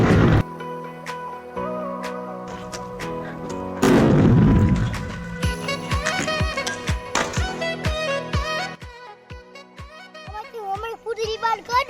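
Firecrackers set off during testing: a couple of loud booms followed by crackling pops and whistling, tonal fizzes, with children talking throughout.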